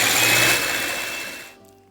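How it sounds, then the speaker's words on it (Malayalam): An electric beater whipping eggs until fluffy for Kifaya cake, a loud, steady high motor whir that fades and winds down to a stop near the end. "നമുക്ക് എഗ്ഗ് നല്ല ഫ്ലഫി ആയിട്ടൊന്ന് ബീറ്റ് ചെയ്തെടുക്കാം. ബീറ്റർ വെച്ചിട്ട് ബീറ്റ് ചെയ്തെടുക്കാം."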